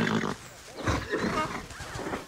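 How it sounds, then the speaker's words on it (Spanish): Zebras in the Planet Zoo video game give rough, grunting bray-like calls, a steady run of throaty animal noise lasting about two seconds at moderate loudness. "ahora solo están como rebuznando, relinchando, lo que hagan las cebras"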